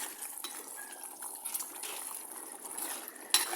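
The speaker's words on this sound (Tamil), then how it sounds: "பச்சை மிளகாயை போட்டு ஒருக்கா கலந்து விடுவோம்." Boiled fish and green chillies are stirred in a pot, giving soft, close liquid sloshing and gentle bubbling, with a light clink of a utensil near the end.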